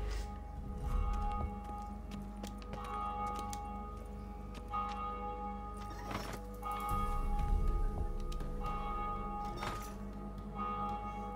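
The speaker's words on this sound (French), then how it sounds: "On entend les cloches de Novigrad" Church bells of Novigrad in The Witcher 3 toll at a distance with slow, repeated strikes, over a low steady rumble of background ambience.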